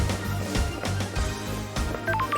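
In the video game Paradise Killer, a telephone rings under steady game music, its high electronic tones coming through near the end.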